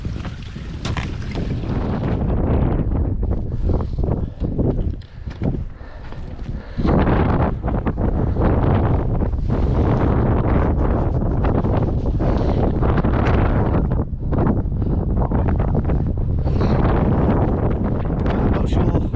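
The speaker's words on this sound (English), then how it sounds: "I'm not sure how much you can hear me with the wind" Gale-force wind on Snowdon's Pyg Track mountain path batters the microphone in loud, continuous roaring gusts, briefly easing once before surging back hard.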